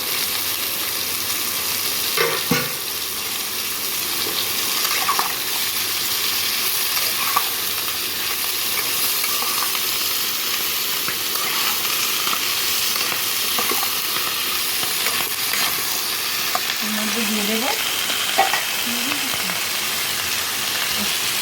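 Potatoes and kun shak greens stir-fry in a pan with a constant dense sizzle, broken by occasional scrapes and knocks of a spoon, close and steady throughout.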